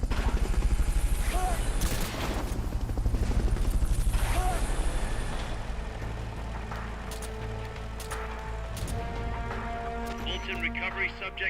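Helicopter rotor chop in Metal Gear Solid: Peace Walker, a steady pulsing drone under bursts of gunfire and game effects, with a voice talking over it.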